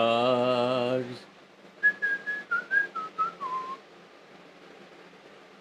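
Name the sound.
person whistling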